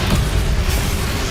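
Depulso spell in the Hogwarts Legacy video game, heard as a loud, dense booming blast that holds steady for over a second at close range.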